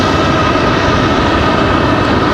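A United Boeing 737 MAX 8 jet airliner taxis at Raleigh-Durham International Airport, its engines giving a steady, loud, broadband roar that holds constant throughout, with no voices.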